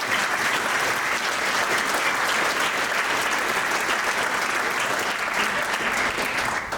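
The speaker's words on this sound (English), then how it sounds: "Let's give a big round of applause to all the families out there." Applause from the audience at an elementary school winter concert, honouring the families: a dense, even wash of many hands clapping that fills the room loudly and holds steady throughout with no pause.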